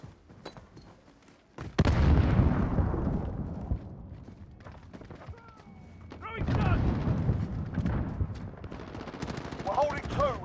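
Gunfire and explosions from Call of Duty Modern Warfare beta multiplayer: a sharp blast with a ringing tail, then rattling bursts of shots and another rumbling burst, with voices talking underneath.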